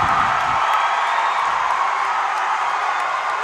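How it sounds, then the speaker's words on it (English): A basketball crowd cheers through the final seconds of a CCC title game, a loud, sustained roar of voices filling the arena, with no letup and no clear single voice. "listen to this crowd"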